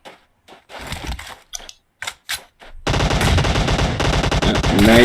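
Rapid automatic gunfire erupts in a video game match, starting with a few scattered bursts and then becoming a loud, continuous stream of shots over the final seconds.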